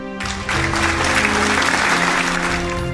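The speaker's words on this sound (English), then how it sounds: "The crowd breaks into applause." A crowd applauds in the visual novel Cinderella Phenomenon, a dense burst of clapping that swells in quickly and holds steady for a few seconds over a faint background music drone.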